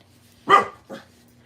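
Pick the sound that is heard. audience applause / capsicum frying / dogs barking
dogs barking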